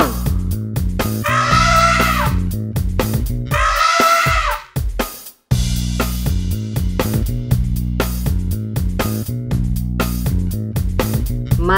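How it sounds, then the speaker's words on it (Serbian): An elephant trumpets twice in shrill, rising blasts over a bouncy background music track, followed by a short gap before the music resumes. "Slon."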